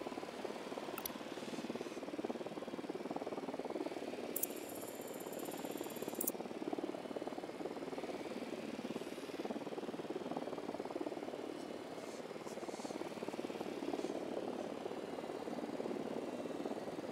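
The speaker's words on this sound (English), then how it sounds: "drone is up" A drone hovers and flies in Ghost Recon Wildlands, a steady buzzing whir of rotors that holds evenly at moderate level, with faint background noise and no talking.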